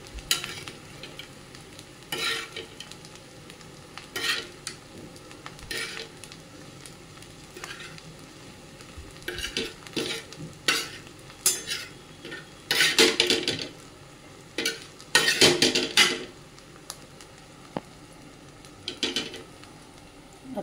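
Paneer fried rice being stirred in a pan over a quiet sizzle, with repeated loud scraping and clattering bursts of the spoon against the pan, irregular and close.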